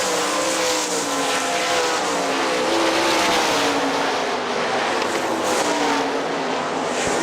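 Outlaw sprint race cars roar around Hartford Speedway Park's oval in a loud, continuous engine drone that rises and falls as the pack passes close by.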